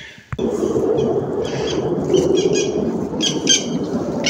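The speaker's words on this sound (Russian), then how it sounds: "Даже птицы перепугались самолета." Birds squawking in a forest, startled by a passing airplane, with harsh chirping calls scattered over a steady broadband rumble after a sharp onset.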